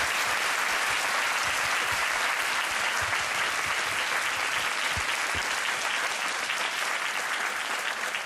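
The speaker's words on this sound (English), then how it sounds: "let's give them a round of applause" Sustained, dense applause from an audience at a university talk fills the hall evenly and loudly, a continuous wash of clapping with no pauses.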